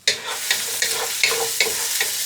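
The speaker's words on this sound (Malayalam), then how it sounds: "ഓയിൽ ഒന്ന് ചൂടായി വരുന്ന സമയത്ത് ചെറുതായി അരിഞ്ഞു വെച്ച് ഉള്ളി അതിലേക്ക് ഇട്ട് കൊടുക്കുന്നുണ്ട്" Finely chopped onions hit hot oil and sizzle steadily for chicken rice, with a scraping stir about every half second over a constant bright frying hiss.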